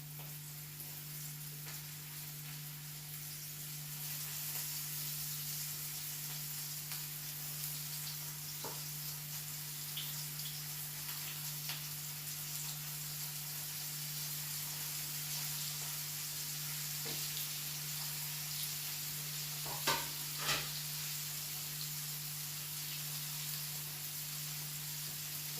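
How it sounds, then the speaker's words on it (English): Chicken fries in oil on low heat for Jamaican fried chicken, a soft, steady sizzle with a constant low hum and occasional faint pops and clicks. "place the chicken inside the oil. Allow it to fry and low heat temperature"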